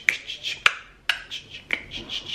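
Crisp finger snaps in a Logic Pro X drum pattern, four sharp dry clicks spaced roughly half a second apart over a soft repeating hat-like tick, close and clean with nothing else around them.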